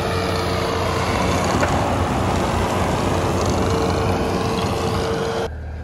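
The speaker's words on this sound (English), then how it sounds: "Thank God for skid steers. These things are amazing." Skid steer running steadily while reshaping a dirt jump, a loud continuous diesel engine drone with heavy low rumble and hydraulic whine, staying constant until it cuts off abruptly near the end.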